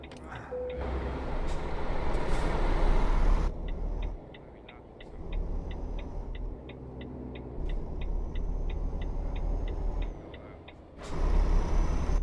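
A sharp air-brake hiss from a truck's handbrake release in Euro Truck Simulator 2 bursts out over a steady engine rumble, with a regular ticking pulse running through the quieter middle stretch.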